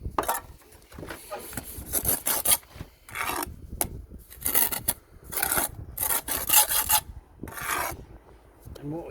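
A trowel scrapes excess mortar off freshly laid bricks in a run of rough, rasping strokes, close and loud, repeated in uneven bursts with brief pauses between them.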